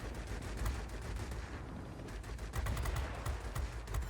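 Aircraft guns in World of Warplanes, firing at an air defence aircraft from a Meteor, rattle in short bursts over a steady engine drone, with the firing picking up toward the end.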